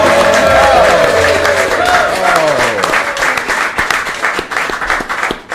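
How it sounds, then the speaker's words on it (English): Studio audience clapping and applauding, a dense sustained wash of hands, with a voice speaking over it early on as the applause continues and fades toward the end. "You're just clapping because we called you brilliant."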